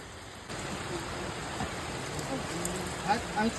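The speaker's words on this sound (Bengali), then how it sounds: "ভালো জোরে বৃষ্টি পড়ছে" Heavy rain pours steadily outside a shop in the Sundarbans, a dense, constant wash of drops that thickens after the first half-second and stays close and even throughout.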